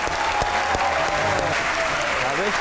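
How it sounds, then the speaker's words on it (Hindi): Loud, sustained applause from an audience fills the whole stretch, with no letup. "आपकी भरपूर तालियों में उमैद आसिफ और अहमद शहजाद"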